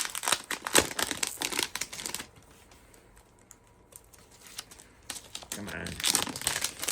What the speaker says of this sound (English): Get all the plastic off.